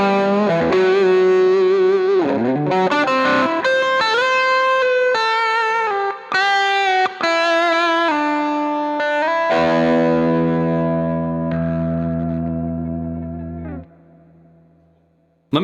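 Electric guitar through a King of Tone overdrive pedal on its crispier side, with crunchy distorted single notes and phrases followed by a sustained chord ringing out and fading.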